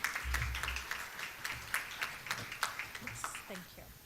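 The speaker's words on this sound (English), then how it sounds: "Please give her the same round of applause." Audience applause at a women's leadership event, a faint spread of scattered claps across the room, sparse and fairly distant, tapering off toward the end.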